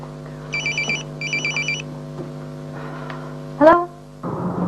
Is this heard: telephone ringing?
yes